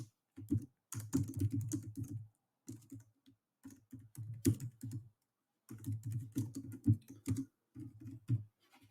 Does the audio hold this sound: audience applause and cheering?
no